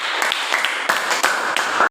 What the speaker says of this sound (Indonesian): Sekali lagi tepuk tangan untuk Utsman bin Affan.